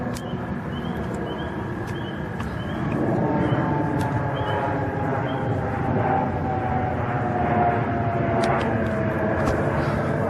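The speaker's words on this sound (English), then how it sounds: "it absolutely looked and sounded very much like a conventional jet" A jet aircraft passes directly overhead, producing a continuous loud broadband roar that swells slightly midway and holds steady, with faint ticking sounds scattered throughout.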